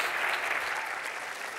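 A conference audience at SXSW Interactive 2014 claps for a presenter named Chris, a dense, even burst of applause filling the room throughout.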